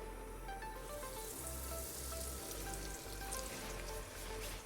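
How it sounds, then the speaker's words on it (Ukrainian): Chicken Kyiv cutlets deep frying in hot oil, giving a steady, dense sizzle and crackle that runs throughout at close range, with no voices. "Поки наші котлети смажаться у фритюрі декілька хвилин"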